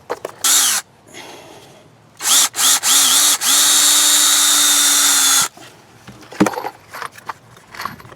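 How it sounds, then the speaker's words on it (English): A power drill drives screws into wooden trellis pieces on a raised garden bed: two short whirring bursts, then a longer steady run, followed by knocks and handling noises of wood. "Just like that, and screw it in."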